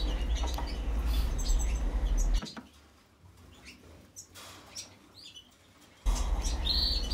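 Red mosaic canary chicks chirping in a nest, a busy chorus of high peeping cheeps that drops off midway to a faint quieter stretch, then surges loud again.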